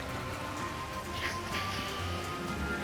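Heavy rain pours steadily in Persona 5 Strikers, a dense continuous hiss of falling water that holds evenly throughout with no pauses.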